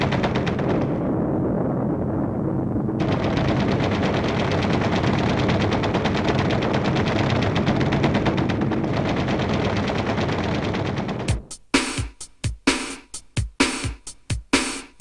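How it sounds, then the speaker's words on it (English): A long, dense roar of continuous fire from a B-25 Mitchell bomber's guns gives way to sharp, loud bursts of machine-gun shots in quick irregular volleys near the end. "Tracers from the machine guns were used to adjust position to aim the plane before firing the"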